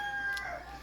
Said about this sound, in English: these roosters just always choose to make the most noise